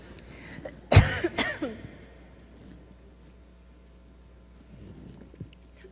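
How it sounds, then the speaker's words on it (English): A person coughing during a lecture about evolution: a loud, sharp cough followed by a couple of quicker, weaker coughs, then quiet room tone. "And while you fly, I'll cough."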